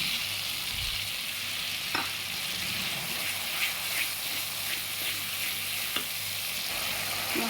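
Spice paste of mustard, poppy seed and ginger frying in mustard oil with turmeric and chilli, a continuous loud sizzle marked by occasional spatula scrapes and clicks, no voices.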